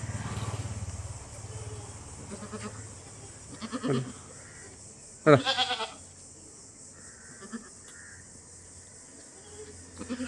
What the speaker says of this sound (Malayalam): നല്ല വളർത്താൻ പറ്റിയ ആടുകൾ ഒക്കെ ഒരു കൂട്ടത്തെ ആടുകളാട്ടോ